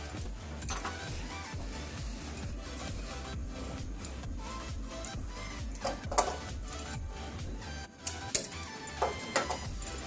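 A sewing machine stitches a blouse with a rapid, rhythmic mechanical clatter up close. Scattered sharper clicks and knocks punctuate the run of stitches.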